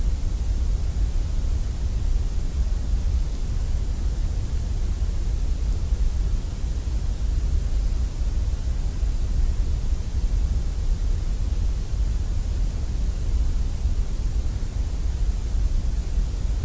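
Steady synthetic colored noise of the kind played for sleep therapy, heard as an unbroken, even hiss with a heavy low rumble underneath. It runs alone for the full length without any change.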